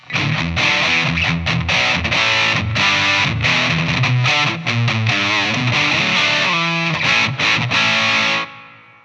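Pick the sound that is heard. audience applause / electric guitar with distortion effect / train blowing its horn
electric guitar with distortion effect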